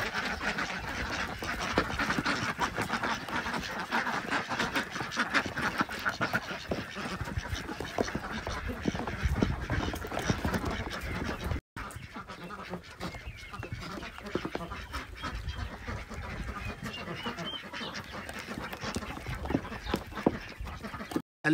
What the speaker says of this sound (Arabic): ونعلف الدواجن بط كلها.